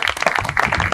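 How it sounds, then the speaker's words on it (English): Brief burst of audience clapping and applause for a presenter at an economic development pitch event, dense and steady throughout with no speech. "Let's give Bryan a round of applause."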